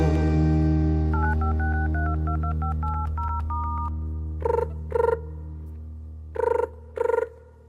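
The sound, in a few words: telephone being dialed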